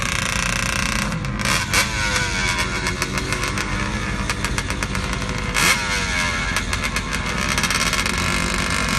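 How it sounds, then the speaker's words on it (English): A three-wheel motorcycle-powered drag racer idles loudly in the staging lanes at a drag racing event, its engine rumbling steadily up close, with a couple of brief blips of revving as other engines run around it. "3-wheel motorcycle powered entry."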